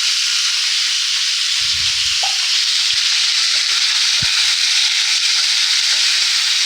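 Diced potatoes and peas for samosa filling sizzle steadily in hot oil in a pan, a loud continuous frying hiss with a few soft stirring knocks and clinks, no talking.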